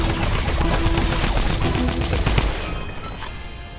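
Rapid automatic gunfire in a zombie shooter game, a loud, close, continuous stream of shots that runs for a couple of seconds and then cuts off, leaving a fading tail.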